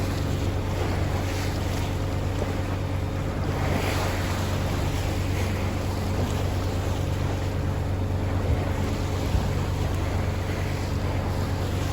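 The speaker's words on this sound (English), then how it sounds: "quite a chop there now, all down to the tide" Rough tidal chop slaps and churns steadily around a moving boat near the Needles off the Isle of Wight, with a constant engine drone and wind buffeting underneath, no voices.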